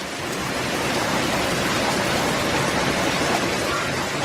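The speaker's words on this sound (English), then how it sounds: "That is a lot of hail that's just coming down." Heavy hail pours down in a loud, constant hiss and patter, thick and unbroken from start to finish with no voices.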